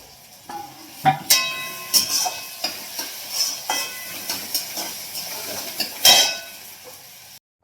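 A tempering sizzling in hot oil for brinjal curry: a hissing crackle with a series of sharp spatters and pops, loudest near the start and again toward the end, then a sudden cutoff.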